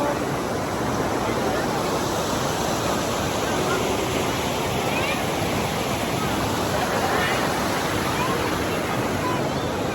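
A waterfall roars in a dense, constant wash of rushing water, loud and close, with no pauses, at the second tier of the nine-tier Kao Chon waterfall in Ratchaburi, Thailand.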